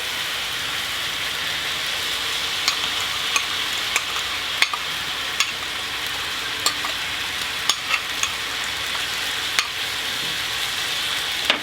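Flat rice noodles and chicken for pad see ew being stir-fried and tossed with a soy sauce mixture in a hot pan, giving a steady loud sizzle with scattered sharp clicks and clatters of the utensil against the pan.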